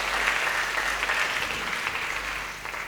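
Guests at a church wedding clap together in sustained, dense applause that stays loud and even, tapering slightly toward the end.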